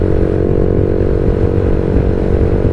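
A Modenas RFS150i motorcycle fitted with an aftermarket racing exhaust, a loud, steady, close engine drone held at high revs for a few seconds, no talk.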